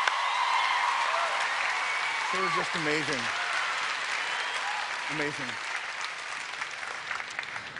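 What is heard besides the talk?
audience applause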